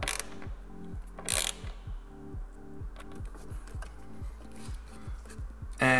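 Screws being re-tightened on the Helmholtz resonator bypass of a Porsche 996 911, with a steady series of rhythmic ratcheting clicks, close and moderately loud, plus a couple of brief louder clanks of the tool.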